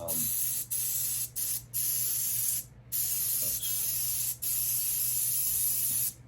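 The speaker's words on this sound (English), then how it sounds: "An airbrush is very handy." An airbrush sprays paint in steady loud hissing bursts, with several brief pauses between passes and no talking.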